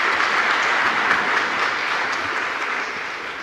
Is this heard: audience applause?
yes